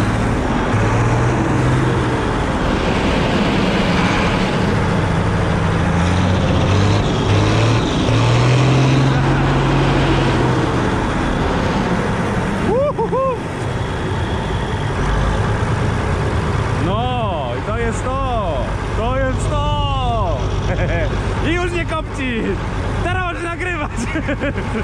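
An old Bizon combine harvester engine fires up and runs after sitting through the winter, a loud rough rumble under excited talk from men nearby.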